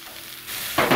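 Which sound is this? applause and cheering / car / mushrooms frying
mushrooms frying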